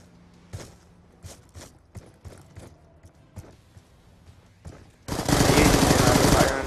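Rapid automatic gunfire in a 1v1 video game match: scattered single shots and clicks, then a sustained loud burst of continuous fire in the final seconds.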